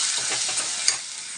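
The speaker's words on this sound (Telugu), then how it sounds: "కొంచెం అల్లం వెల్లుల్లి వేస్తాను సరిపడా ఫస్ట్ బాగా కలిపాను" Ginger-garlic paste stirred into a frying spring onion egg curry, a steady close sizzle with soft scraping of the stirring, alone without talk.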